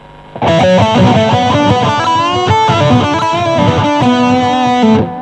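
A boosted electric guitar solo rings through an amp with the boost pedal engaged, loud, bright and sustained, opening after a short pause and holding strong singing notes before cutting off abruptly.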